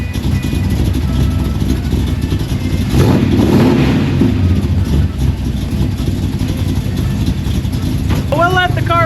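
A hot rod's engine runs steadily to bring it up to temperature, a loud continuous low rumble with a brief swell in revs, faint voices audible over it.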